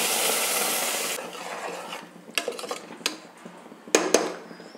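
Ground tomato paste hits a pan of fried onions for tomato rice with a loud, hissing sizzle. The sizzle then gives way to close scraping strokes of stirring and a few sharp utensil clinks against the pan.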